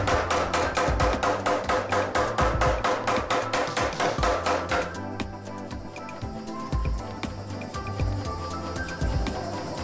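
A hammer strikes a wootz steel ingot during forging in a fast, even series of ringing metallic blows for about five seconds, then continues as sparser, quieter, irregular taps.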